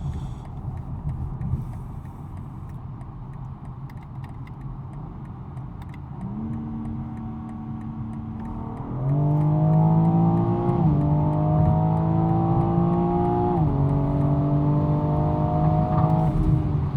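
A BMW M4 xDrive accelerates hard from inside the cabin, the engine note climbing through several gears with clear rising tones and brief dips at each shift, loud and sustained.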